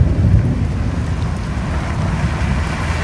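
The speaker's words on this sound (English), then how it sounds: "Ooh, we got some lightning and thunder." Thunder rumbles low and steady through a heavy rainstorm with flash flooding, a continuous loud wash of rain and wind with no voices.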